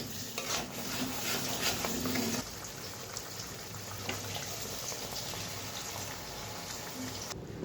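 Water poured into a hot pan of vegetarian Kashmiri aloo dum, breaking into loud sizzling and bubbling that settles into a steady, softer simmering hiss with light stirring.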